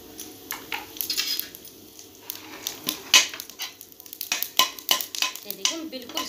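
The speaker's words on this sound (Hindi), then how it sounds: "अब हम डालेंगे आधा छोटा चम्मच साबुत जीरा।" Whole cumin seeds drop into hot oil in a home kitchen pan for green onion sabzi, giving a close crackling sizzle with scattered pops and a few sharp clinks of a spoon against the pan.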